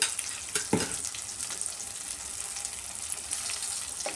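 Tomatoes sautéing in a pan while rasam is being made give a steady, soft frying sizzle throughout, with a couple of brief stirring clatters near the start and no talking.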